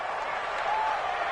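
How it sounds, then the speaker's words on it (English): A stadium crowd in a PS4 football video game cheers and roars ahead of a big third down, a loud sustained wash of noise with no clear speech. "the crowd getting into it as we come up on a big 3rd down"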